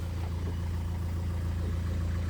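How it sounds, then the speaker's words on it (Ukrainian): A 2014 turbocharged car sits idling during a used-car inspection, its engine giving a steady, even low hum up close with no change in revs and no one speaking. "працює гарно мотор"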